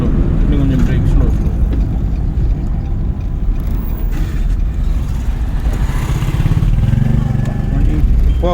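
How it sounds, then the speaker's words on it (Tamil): A car in a driving school lesson moves off in first gear on a road. The engine and road noise are steady and close, under an instructor's continuous spoken directions. "ஃபஸ்ட்டு கீர் போட்டு மூவ் பண்ணுங்க"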